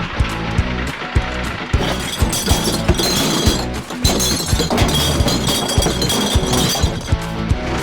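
Glass recycling being smashed into a collection truck, dense crashing and clinking of bottles breaking loudly and continuously, with sharp repeated impacts over several seconds.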